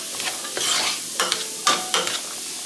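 Diced jalapeno and orange pepper sautéing in a pot for a veggie soup, bright sizzle with several sharp spoon-scraping stirs in quick bursts, close up and without talk.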